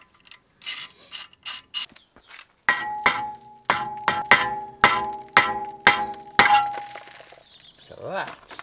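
Hammer tapping on a rusty wheel bearing of an Audi A4: a string of about eight sharp, ringing metallic blows at a steady rhythm, loud and close, preceded by shorter clinks and handling noise.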